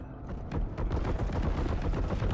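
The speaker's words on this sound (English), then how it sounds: "A heavy bolter. Oh, it's good." Rapid heavy bolter gunfire in the video game Warhammer 40K: Boltgun, a dense, continuous stream of booming shots fired nonstop for the whole stretch.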